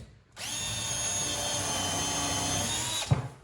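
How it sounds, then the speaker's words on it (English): A power drill fitted with a countersink bit drives screws down through kitchen worktops, running as one steady, close whine for about three seconds before a brief knock as it stops. "So screw these worktops down just using a countersink bit"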